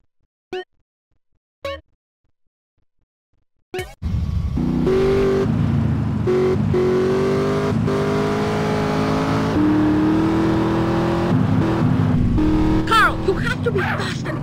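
A car driven in GTA San Andreas, its engine droning steadily and revving at close range after a few brief sharp sounds and silence, with voices talking over it.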